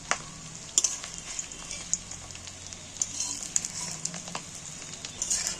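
Fish roe fritters fry in hot oil, producing a soft, steady sizzle with scattered crackles and occasional close clicks from turning the pieces, with no talking.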